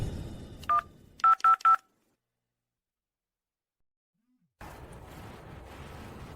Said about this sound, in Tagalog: Tumutunog ang phone niya.